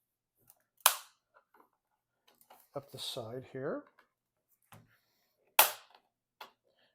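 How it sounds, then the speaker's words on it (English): Two sharp plastic pops as a CGC comic slab is pried open, well apart, each a crisp snap, with someone talking quietly in between. "You can hear the plastic popping."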